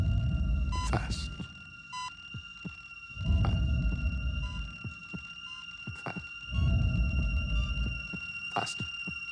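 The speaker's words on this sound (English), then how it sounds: "Let's make his heart beat faster." A heartbeat sound effect from the 1981 film Scanners: deep, throbbing thumps every few seconds over a steady electronic hum, with faint clicks in between.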